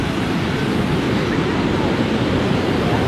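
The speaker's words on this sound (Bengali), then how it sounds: "এই রাত্রে কি বিশাল ঢেউ" Big sea waves break on a beach at night, a loud continuous roar of surf and rushing water with wind, no distinct voices.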